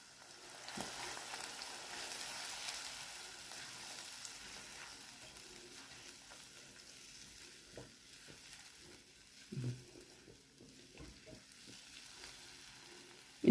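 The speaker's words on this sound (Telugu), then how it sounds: "ఉల్లిపాయలు కొంచెం వేగి వరకు వేయించుకోవాలి." Onions frying in oil in a pan for a white bean curry, a soft steady sizzle running throughout with occasional louder clinks and stirring knocks.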